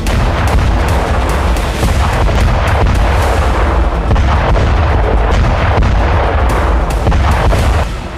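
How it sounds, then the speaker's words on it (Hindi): Cluster bomb blasts in war footage from the Russia-Ukraine war near Avdiivka, a dense loud barrage of booms and bursts rolling continuously one after another with no talking. "धरती पर एक के बाद एक कई धमाके हुए।"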